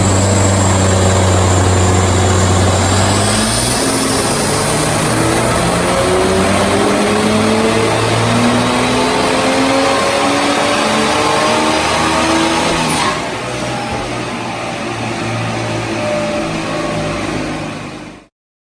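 A JB4-tuned BMW M235i on E30 fuel making a full-throttle dyno pull: loud, close engine note climbing steadily in pitch for about thirteen seconds, then easing off to a lower drone before cutting out.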